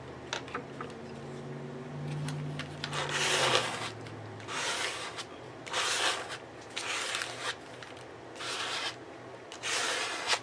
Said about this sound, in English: scrape with your credit card.